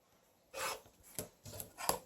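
Scissors or a rotary cutter slicing quilt fabric apart along a drawn line to yield half square triangles, a few short close crisp cutting strokes in quick succession.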